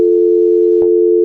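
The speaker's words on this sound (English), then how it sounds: "You just hear dial tone" A steady telephone tone hums loud and unbroken, with a brief click partway through as the line shifts slightly, no voices.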